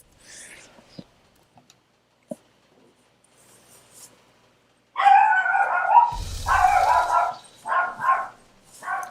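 A pet dog in a home barks in several loud, close bursts after a quiet stretch of faint clicks and small knocks, the barks coming in quick uneven clusters.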